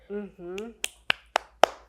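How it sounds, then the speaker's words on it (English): Four slow, evenly spaced claps ring out close and crisp in a talk-show studio, following a couple of seconds of speech, a deliberate single-person sympathy clap. "That's my sympathy clap."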